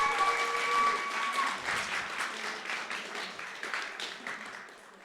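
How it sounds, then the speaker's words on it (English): A crowd applauds steadily at an Overwatch 2 LAN tournament, dense clapping from a large audience that gradually tapers, with a faint tone ringing at the start. "Let's get one even bigger round of applause for all the production staff putting on an amazing show today,"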